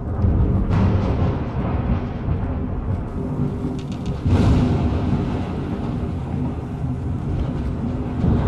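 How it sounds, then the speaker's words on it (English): Steady rain and rolling thunder in the game Fallout London, a dense continuous hiss with deep rumbles that swell louder partway through, close and without talk. "Why is the rain coming through?"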